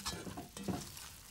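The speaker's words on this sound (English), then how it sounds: "Once the onion's been happily cooked, I stir in the potato that's been drained," Drained potato is stirred into cooked onion in a pan, making a faint, brief scraping shuffle with a low sizzling hiss beneath, close by and without voices.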